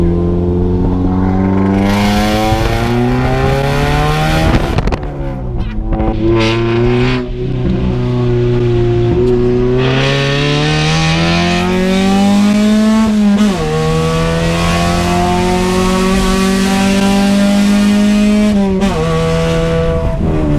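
A loud Honda car engine revs hard through rising and falling pitch sweeps, punctuated by sharp backfire pops around the fifth, thirteenth and nineteenth seconds, close and sustained with no talk.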